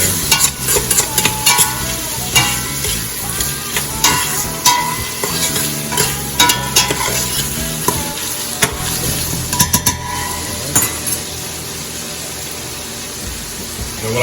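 Onions and chopped dark-green outer cabbage leaves sautéing in a pan, a loud, continuous crackling sizzle broken by repeated scraping and stirring clatters from a utensil.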